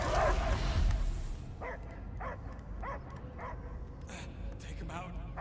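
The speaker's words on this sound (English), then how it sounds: "I hear only barking." A dog barks and whimpers in the Guardians of the Galaxy video game, a run of short, evenly spaced yips heard after a loud burst of game sound, with a voice speaking over them.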